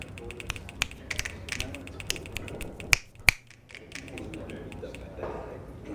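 Finger snapping in the video game Grim Fandango Remastered, a run of sharp, crisp clicks with two louder, isolated snaps near the middle over a faint, low background.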